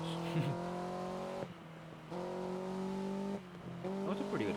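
A rear-wheel drive Renault Alpine A110 drives hard, its engine note rising in steady harmonic sweeps and dropping at each gear change, with brief squeals from slipping tyres, loud and close over a talking voice.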